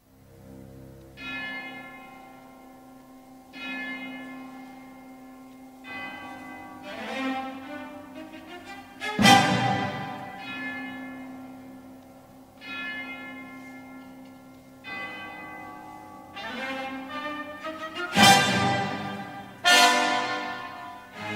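Church bells ring in repeated heavy strokes within orchestral music, each clang ringing out and decaying, with two louder crashing peaks.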